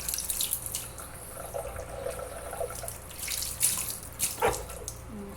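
Something being washed under a running tap during barbecue preparation, with steady splashing water and occasional clinks and drips, fairly close and moderately quiet.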